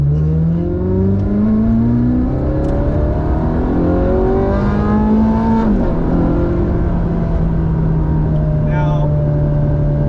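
Ferrari 430 Scuderia engine heard from inside the cabin, a loud steady drone with rising and falling harmonics as it revs and shifts, continuous throughout with a brief dip midway.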